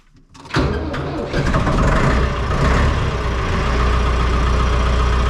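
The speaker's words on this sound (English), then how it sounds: "While that tractor warms up" A farm tractor engine cranks and catches, then settles into a loud, steady, rumbling idle close by as it warms up, with no talk over it.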